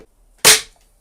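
A single sharp, loud shot from a Daystate Air Wolf .177 air rifle firing hunting pellets, a crisp crack that decays quickly into silence.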